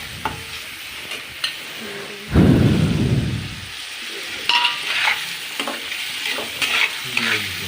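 Salt and ground turmeric being stirred and fried in a cooking pan. Scattered scraping stirs are followed by a sudden loud sizzle burst that fades over about a second, then more close, intermittent scrapes and light frying.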